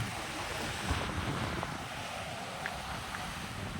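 Ocean waves and steady wind at a beach near Udupi, a continuous broadband wash with wind buffeting the microphone, no distinct breaks, moderately loud and unbroken throughout.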